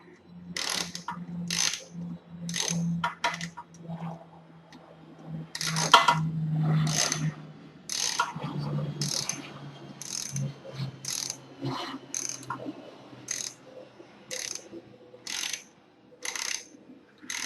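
A ratchet wrench clicks in steady rapid bursts while removing a bolt from a lawn mower's back cover outdoors, with sharp close metallic ticks repeating through the stretch and brief pauses between bursts.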